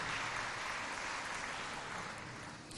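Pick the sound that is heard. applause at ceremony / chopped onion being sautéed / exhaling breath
applause at ceremony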